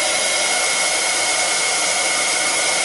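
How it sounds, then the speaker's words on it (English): A hair dryer blowing steadily to dry fresh ink, a loud continuous close airy roar with no pauses. "Oh, I'm going to dry it because I don't want to smudge these."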